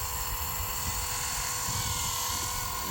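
An RC helicopter's rotor spools up under throttle, giving a steady, loud, dense whine and buzz with a constant drone and no voices.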